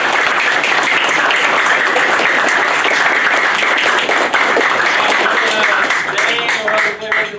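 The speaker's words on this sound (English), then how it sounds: "You guys give a big round of applause for those." Sustained applause from a school audience at a high school performance event, dense steady clapping throughout that tapers slightly near the end.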